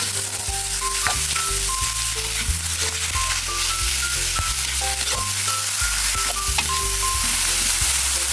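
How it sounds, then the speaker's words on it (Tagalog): Ground beef sizzling loudly in a pan with garlic and onion, a steady close frying hiss with stirring scrapes and soft background music throughout. "ay lalagyan na natin yung ating giniling na beef."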